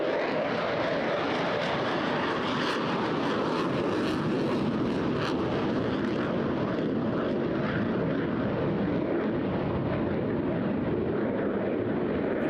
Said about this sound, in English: Very shortly, he put those reheaters back on.